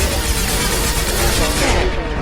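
Dense, loud gunfire in a Mass Effect 2 firefight on Insanity difficulty, a continuous roar of overlapping shots and blasts, close and intense, with a voice mixed in underneath.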